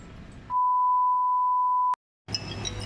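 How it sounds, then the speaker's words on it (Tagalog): A mobile phone sounds a single steady electronic tone for about a second and a half as an incoming call arrives, then cuts off abruptly before background noise returns. "ngayon tumatawag na ata siya ngayon ito tingnan natin yung phone"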